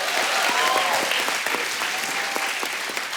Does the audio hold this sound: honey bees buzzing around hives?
no